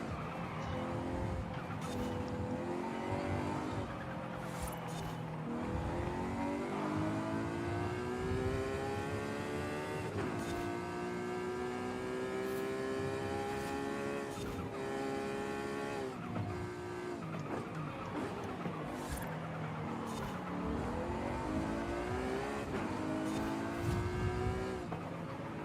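Engine in Forza Horizon 5 revving hard and loud, rising and falling repeatedly as the racing car downshifts through gears, with brief tire noise, close and continuous without talk.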